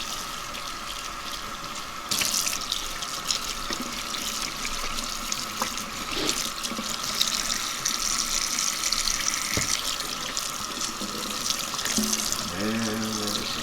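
Warm water runs steadily from a sink tap while a tie-dye V-neck shirt is rinsed, a continuous splashing hiss with shifts as the fabric is moved under the stream and brief handling noises.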